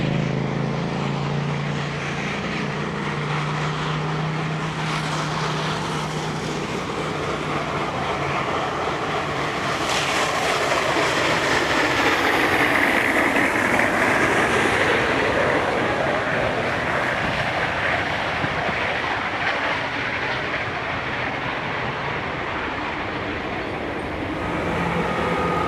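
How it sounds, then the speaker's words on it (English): Garratt steam locomotive 6029 passes with 4501 assisting its train at Como during a New South Wales heritage rail expo, a broad rumbling roar that swells toward the middle and fades, with no voices. "The next train passing us, this time at Cogra, is 6029 the Garrett, with 4501 assisting its train."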